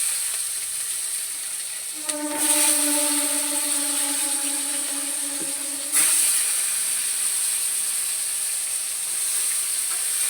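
Potato and eggplant pieces rubbed with salt and turmeric fry in hot oil in a pan, giving a loud, steady hiss that swells as they go in, with a brief whistling tone in the middle.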